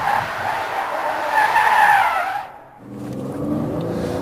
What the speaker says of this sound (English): we're going to test emergency braking now